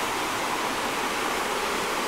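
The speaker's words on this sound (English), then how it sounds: "As you can see, the water coming down, and the water mill" Water rushes steadily down a chute to turn the wheel of an old water mill in Pigeon Forge, Tennessee, a continuous, fairly loud broadband roar with no talking.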